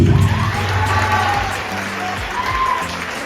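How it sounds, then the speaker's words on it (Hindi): Sustained applause from a seated audience at a business motivational speech, broad and steady throughout, with a voice speaking over it. "ताली तो बजनी चाहिए।"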